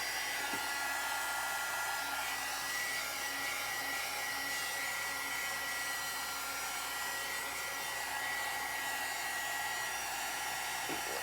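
A hair dryer blows steadily on freshly painted Easter crafts, a continuous close whooshing hum that holds unchanged for the whole stretch with no talking.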